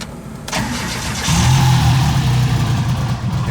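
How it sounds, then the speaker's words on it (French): A 1940s car engine cranks briefly and catches at once, settling into a low, rumbling idle close by. "Et là, comme on l'entend, elle démarre au quart."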